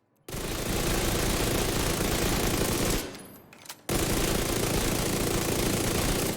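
Submachine gun fire in The Division 2, a loud, sustained rapid-fire burst that breaks off briefly near the middle, then resumes at full intensity until the end.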